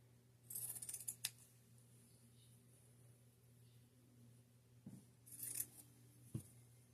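Scissors snip through Dollar Tree fall garland in two quiet bursts of crisp cuts, close up over a low steady hum.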